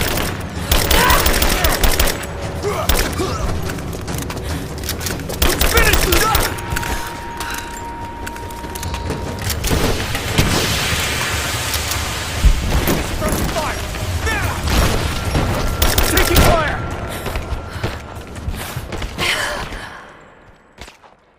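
Rise of the Tomb Raider combat brings sustained gunfire, with rapid automatic bursts and single shots almost nonstop. Shouting voices and Lara's breathy grunts and gasps mix in, and the fighting tapers off at the end.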